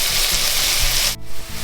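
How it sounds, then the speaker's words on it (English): Chopped onions fry in a pan for a beef, mozzarella and onion pie, a loud close sizzle with low clattering underneath that cuts sharply near the end before resuming more quietly. "there's our onions cooking away quite nicely"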